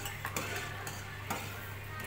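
Semolina halwa is stirred in a pan, giving a few soft scraping strokes and light clinks over a low, faint background hum.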